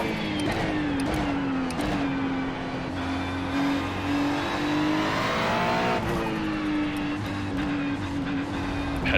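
A Ferrari 296 GT3 race car in iRacing multi-class racing at Indianapolis Motor Speedway holds a steady high engine drone that rises and shifts with other cars' engines, brief tire noise and a passing car coming up close.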